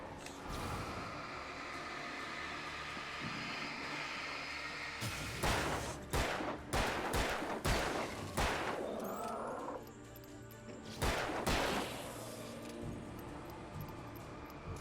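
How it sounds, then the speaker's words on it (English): A flare gun fires in the video game Alan Wake: a run of sharp, loud cracks and bursts in quick succession, followed by a hissing, crackling tail and one more burst, over a steady background ambience. "I love the flare gun"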